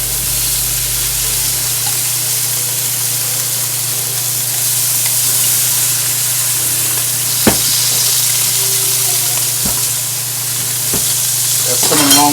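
Salmon frying in a pan with lemon, a loud, continuous hissing sizzle close by, broken by a few sharp knocks of a utensil against the pan.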